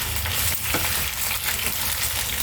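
Onions fry in a pan with a steady, loud sizzle, crackling continuously and stirred now and then, with no voices.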